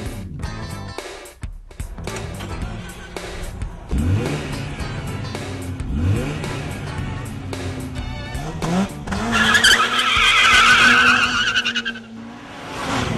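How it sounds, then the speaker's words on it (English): A Mazda RX-8 laps the Laguna Seca racetrack at speed, its engine revving up and down through gear changes with tires squealing through corners, loud and close with no talk. "Let's go take a fast hot lap around this great racetrack in a Mazda RX-8."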